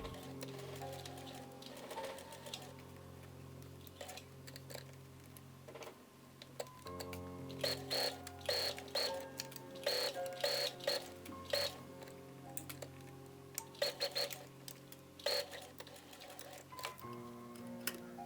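A sewing machine stitches the lining and binding fold of a handmade winter coat, quiet, in short ticking bursts of stitches with pauses between them, no voice over it.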